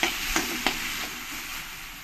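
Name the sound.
water added to frying masala for kabuli chole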